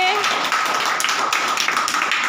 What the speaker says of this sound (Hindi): चलो ताली बजाओ इनके लिए।